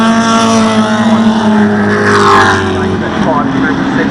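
BMW 836 race car with a V8 engine passing on a circuit, a loud close engine roar with a sustained tone that shifts in pitch as it goes by, over trackside commentary.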